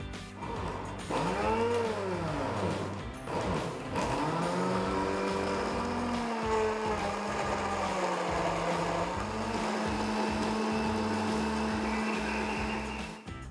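An electric blender grinds pomegranate seeds with lemon juice, its motor whirring steadily with a few dips and shifts in pitch as the blades churn the mixture.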